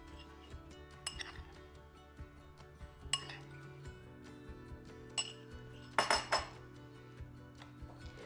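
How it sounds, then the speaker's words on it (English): A spoon works against the side of a bowl mixing a sugar glaze for a Bundt cake, giving quiet, scattered clinks and scrapes with a cluster of sharper taps near the end, fairly faint overall. "I'm just working the spoon against the side of the bowl to get out any of the clumps of sugar."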